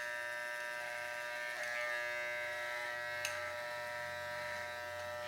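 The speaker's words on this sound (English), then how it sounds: "shaver" An Andis electric shaver hums in a barbershop, its steady high-pitched buzz running continuously at moderate level, broken only by a couple of brief clicks and slight surges as it touches skin, with no talking.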